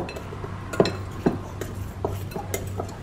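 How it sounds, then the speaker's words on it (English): A utensil stirring banana nut bread batter in a bowl, with soft scraping and a few sharp clinks against the bowl's side at irregular intervals, close and moderately quiet. "you want to make sure this is getting mixed up real good, guys"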